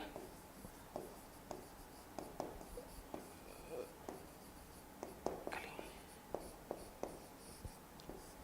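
Marker or chalk strokes on a classroom board during a fluid mechanics lecture on turbulent flow, short scratchy taps and squeaks in an irregular rhythm, fairly faint, with a teacher murmuring between strokes.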